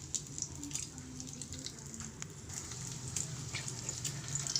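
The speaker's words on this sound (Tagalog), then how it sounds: "malapit na po maluto yung sa itlog" Eggs frying in a pan, a steady soft sizzle with light crackles and pops throughout, close and continuous.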